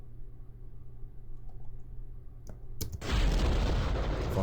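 In Kerbal Space Program, a low quiet hum and a few faint clicks give way to a sudden loud ignition, then a rocket engine roars steadily at takeoff.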